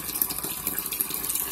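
Warm water runs from a bathroom tap in a steady, close, rushing gush with a bright splashing hiss and no voices over it.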